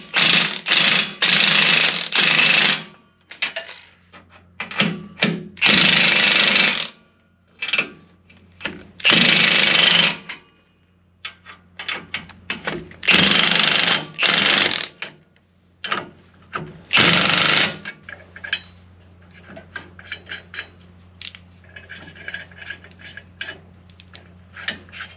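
A power tool runs off 21 mm U-bolt nuts on a Chevy Silverado during a KSP level lift install, in several loud, close bursts of whirring and rattling, separated by short pauses and quieter clinks.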